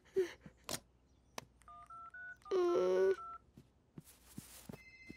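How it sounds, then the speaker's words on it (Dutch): A telephone is dialed with a few separated DTMF keypad tones, then rings in short electronic bursts from another room, with quiet gaps between sounds and no talking. "Ik bel de telefoon wel even."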